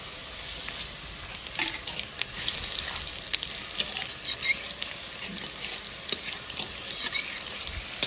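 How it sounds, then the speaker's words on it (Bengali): Bay leaf, whole cumin and dried chillies crackle and sizzle in hot oil left from frying hilsa fish, a steady close spitting patter with sharp pops and no talk. "ইলিশ মাছ ভাজা তেলে ফোড়নটা দিয়ে দেবো, তেজপাতা, গোটা জিরে, শুকনো লঙ্কা"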